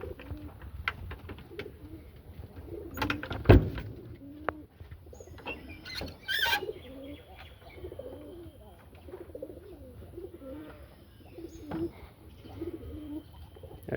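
Jalali pigeons coo in a loft, repeated low throaty coos from close by in irregular bursts, with a few sharp clicks and knocks between them and light background noise.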